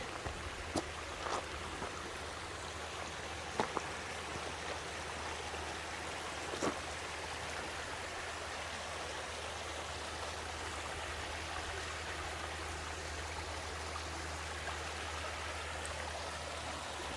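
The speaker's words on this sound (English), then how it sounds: "the creek sound that you're hearing is this little creek right here" A small creek in Flaming Geyser State Park flows steadily with a soft continuous babble and trickle, quiet and close, with a few faint clicks on top.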